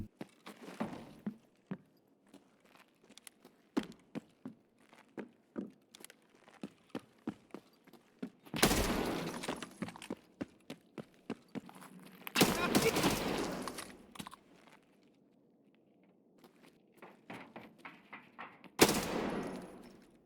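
Rapid DMR rifle fire in the video game Escape From Tarkov on the Factory map, with scattered single shots, quick footsteps and clicks between three loud, dense bursts of gunfire.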